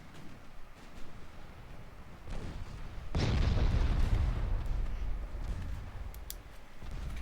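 Heavy secondary guns on warships boom in a naval battle in Ultimate Admiral Dreadnoughts, a dull rumbling barrage that swells suddenly partway through and keeps rolling with overlapping blasts.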